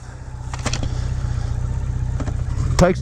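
A 1980 Kawasaki KZ1000G motorcycle engine runs close by with a steady, loud, throbbing drone, and a couple of brief clicks sound over it before a sharper rise near the end.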